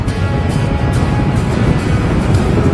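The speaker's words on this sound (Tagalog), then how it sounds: "Tapos Yamaha Lexi, ayun yung gamit na motorsiklo" A Yamaha Lexi 155 scooter rides down a road. The engine and wind roar form a loud, steady rush that sounds close, with no talking.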